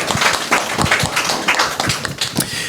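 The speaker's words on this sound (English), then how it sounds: "Let's give her a round of applause." A room of listeners claps for a guest at a journalism week panel on entertainment journalism, the claps fairly close and distinct, holding a loose, uneven rhythm for under three seconds with no talk.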